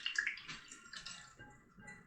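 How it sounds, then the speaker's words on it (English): Chicken and rice casserole mixture poured from a container into a baking pan, giving a brief wet, splashy pour with soft glugs, close by and fairly quiet. "we're going to take this mixture and we're going to pour all this down in our pan"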